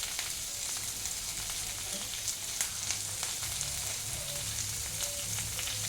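Mango pieces with salt frying in a pan for aam dal, producing a continuous low sizzle with occasional sharper crackles and faint stirring, close and steady throughout, with no voices.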